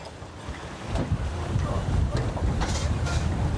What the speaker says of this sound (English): the wind is so strong, it's very hard for me to go and point